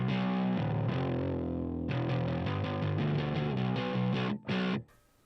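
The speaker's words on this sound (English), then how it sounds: "Let's bung in a Marshall for fun, shall we?" Bass guitar played through a Marshall amp model on a Line 6 HX Stomp, heavily distorted and growling, with sustained notes and a run of quick repeated plucks before it cuts off, no talking.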